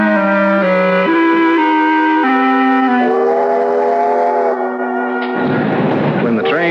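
A radio drama sound effect of a train pulling into a station: loud, sustained whistle chords that shift pitch several times, then a burst of hissing steam near the end.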